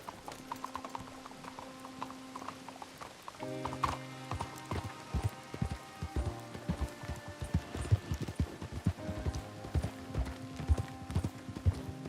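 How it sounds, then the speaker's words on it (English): Hooves clip-clop in a quick, rhythmic gallop in Red Dead Redemption 2, close and clear, with faint mechanical clinks and a musical tone humming underneath. "You got a horse?"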